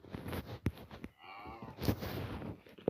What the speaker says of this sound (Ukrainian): Ой, я корову скину. А, ні, не скину, жива.